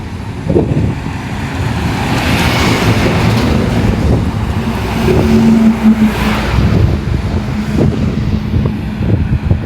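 Large vehicles and bikes rushing past on a road used by pilgrims heading to Ramdevra, a steady loud roar of traffic swelling and fading as each passes close by, with no talk.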